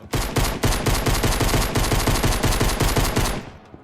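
Fast steady run of gunshots in the Fortnite horror game The Sound of Fear, loud and close, about a dozen evenly spaced shots before stopping abruptly.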